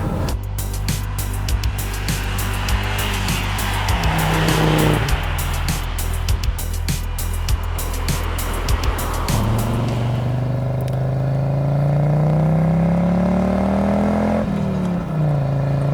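An Audi Quattro rally car engine revs hard, rising and falling through the gears with loud, close roaring and brief squeals from the tires, ending in a long climbing pull.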